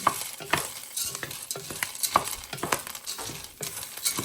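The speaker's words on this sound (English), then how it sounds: "We're going to toast this pasta up just a little bit before we add the liquid." Dry pasta from two boxes toasting in a hot pan while being stirred: continuous scraping and rustling with light clinks of the utensil against the pan, a steady close-up sizzle underneath, no voices.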